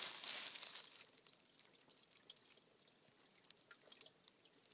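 Slow-moving spring water trickling in winter, an open flow among frozen surroundings, making a faint, steady dribble with scattered small drips, alone and quiet throughout.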